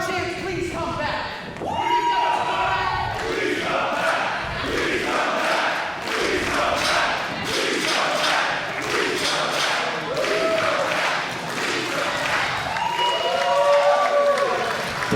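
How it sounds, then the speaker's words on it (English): A wrestling crowd at a Blood Sweat Tears Wrestling show chants and cheers in rhythmic surges, loud and reverberant, with scattered shouts, whistles and applause mixed in across the whole stretch. "the crowd chants, please come back"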